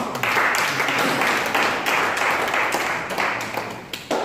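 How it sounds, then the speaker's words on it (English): A crowd at a divinity vacation school claps for itself, dense, sustained applause from many hands filling the room for several seconds. "Clap for yourself."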